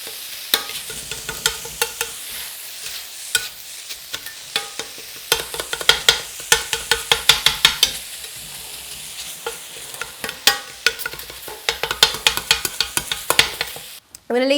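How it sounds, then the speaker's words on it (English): About 500 grams of beef mince fries in a pan with a steady sizzle, broken by frequent scraping and clattering as it is stirred and broken apart, building to quick bursts of stirring near the end. "I'm going to leave that to fry off and get golden brown"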